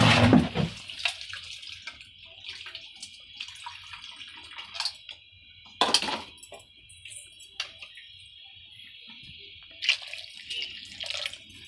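Water runs and pours intermittently in a home kitchen while cooking, with several short splashing bursts and drips between quieter stretches, fairly faint and without talk.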